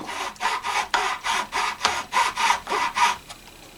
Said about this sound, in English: And then come in with the nut seating file. Just make sure to clean out all that glue.